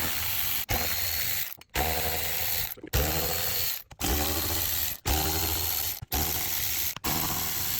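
A hand ratchet loosens bolts on the intake manifold of an Audi A6 4.2 V8, a rapid clicking run repeated in about seven bursts separated by short silent gaps, close and clear.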